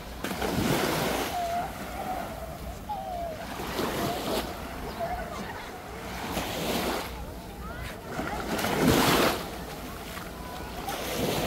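Surf rolling in at high tide on Bolabog Beach, Boracay, in broad recurring washes about every few seconds, with steady wind rumble and faint voices in the background.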